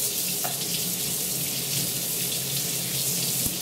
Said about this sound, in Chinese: 蒸之前，第一步要先把这个冲一遍，因为盐放的很多